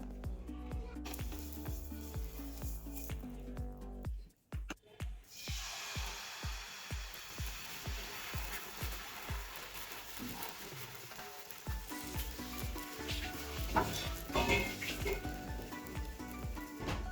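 Dosa batter cooks on a hot pan with a steady, faint sizzle, broken by a few soft clatters and scrapes partway through.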